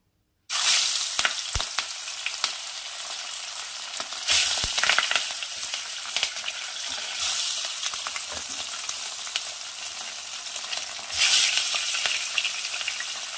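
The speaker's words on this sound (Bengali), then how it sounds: "সব কটা মাছ আমি একটু কড়া করে ভেজে নেব, ভেজে তুলে রাখবো।" Fish sizzles steadily in hot mustard oil as the pieces fry crisp for a Bengali fish curry, a loud, continuous crackle with brief surges and no talking.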